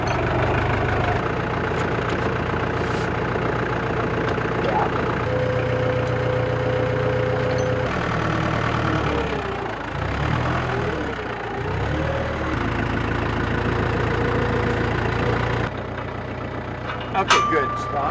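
A vineyard tractor's engine idles steadily with a low, even rumble throughout, while people talk nearby and a brief rise in engine note comes midway.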